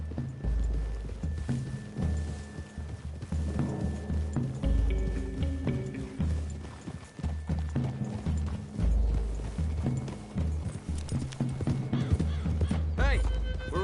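Horses clip-clop at a walk through woodland in Red Dead Redemption 2, steady hoof beats mixed with tack creaks and game music, and voices speak over parts of it.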